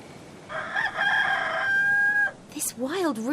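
Wild rooster in the adventure game Haunted giving one long, loud cock-a-doodle-doo crow, followed by a brief squawk and a wavering call, close and clear over soft background noise.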